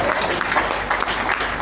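An audience at a Hindi poetry recital, a kavi sammelan, claps in a dense burst of applause that fills the brief moment at full loudness.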